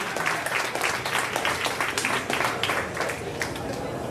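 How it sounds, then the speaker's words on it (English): At a senior awards ceremony, an audience claps steadily through the whole stretch, a thick, moderately loud patter of many hands with some voices mixed in beneath. "We're full on clapping"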